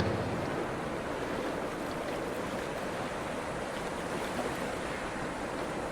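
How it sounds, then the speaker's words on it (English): Ocean waves near a lighthouse make an even, soft wash of surf, a constant hiss with no distinct breaks or swells and no voices. "The sound of the waves becomes a soft, white noise"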